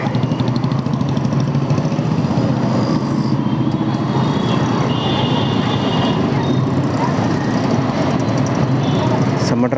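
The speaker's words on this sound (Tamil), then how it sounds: "இங்கே நல்லா டிராஃபிக் வந்துடுச்சுங்க" Heavy road traffic in India heard from a moving motorbike: a dense, continuous roar of engines and road noise, loud and unbroken throughout.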